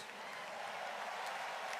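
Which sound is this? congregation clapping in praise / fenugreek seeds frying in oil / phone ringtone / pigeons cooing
congregation clapping in praise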